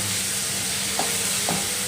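Chopped spring onions sizzle steadily as they sauté in a pan, with a constant frying hiss and two soft stirring scrapes near the end.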